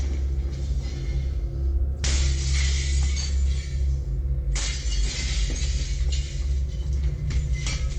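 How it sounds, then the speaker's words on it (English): A home window shattered with a piece of firewood, captured by a security camera: bursts of crashing, splintering glass over a constant low rumble, with a second heavy crash midway and scattered clinks after. "The man was able to use a piece of firewood to shatter one of the windows."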